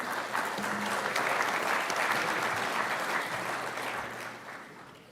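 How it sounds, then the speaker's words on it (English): An audience at an IBA Congress event in Dubai claps for the staff. The applause is steady and fills the room, then fades slightly toward the end. "I think we should give them a little round of applause."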